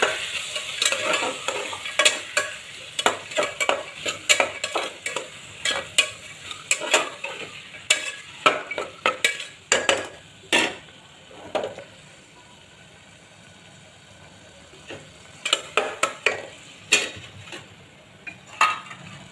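Sprouted moth bean curry with chickpeas, peas and mung being stirred and sautéed in a pan: repeated sharp clinks and scrapes of a spoon on metal over a low sizzle, with quiet pauses in between.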